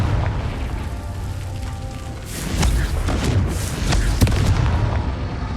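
Confringo blasting spell explosions in Hogwarts Legacy, played on PS5: a rumbling bed of game noise broken by several heavy booms and sharp bursts, the loudest near the end, with no talk.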